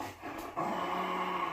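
A pet dog makes a soft, low growling whine, a short burst that steadies into a continuous close vocal sound with no talking over it.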